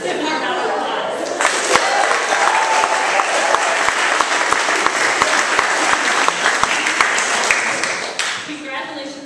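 A school recognition-day audience gives a loud round of applause, dense clapping with sharp individual claps and a murmur of voices, starting abruptly and fading at the end.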